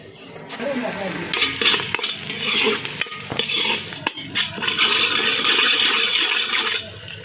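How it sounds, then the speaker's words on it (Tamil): Onions sautéing in a pan for mutton biryani, a hissing sizzle that swells and fades with stirring, plus a few sharp clanks of a utensil against the pan, close by and without speech. "வெங்காயம் வந்து நல்ல ரெட் கலர் வர வரைக்கும் பொறுமையாக வதக்கணும்"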